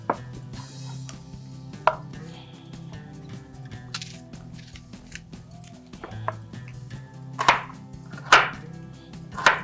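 A knife taps steadily against a cutting board as an onion is roughly chopped, with a few sharper louder cuts near the end over a low background hum.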